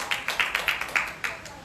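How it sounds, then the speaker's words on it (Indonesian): A church congregation at a GBI Blu Plaza worship service claps in a quick, fairly steady rhythm, about nine sharp claps in under two seconds at moderate loudness. "Berikan tepuk tangan bagi Tuhan kita."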